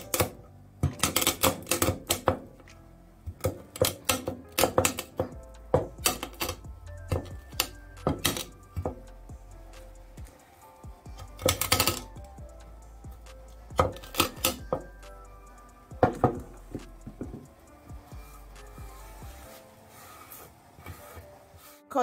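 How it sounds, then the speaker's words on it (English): Whole pimento (allspice) berries crushed in a kitchen while making tea, heard as sharp, irregular knocks and cracking taps in clustered bursts with short quiet gaps, close and fairly loud. "Crush a few of the pimento too."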